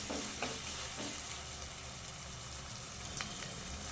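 Onions frying in a pan for chicken curry, a soft, steady sizzle with occasional stirring scrapes and faint pops, heard close and on its own.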